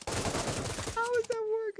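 A rapid burst of automatic gunfire from the Pavlov VR game rattles loudly for about a second, then a sustained voiced shout follows.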